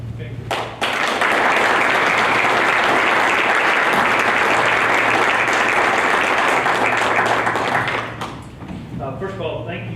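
Audience applause at a Stepping Up Day of Action event, loud sustained clapping from a crowd that swells quickly and tapers off, with a voice beginning to speak as it dies down.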